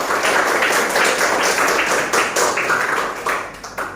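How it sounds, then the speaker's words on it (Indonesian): A class gives a classmate a round of applause, a dense, loud, sustained clapping from a roomful of students that thins slightly toward the end. "kita kasih aplaus untuk temannya"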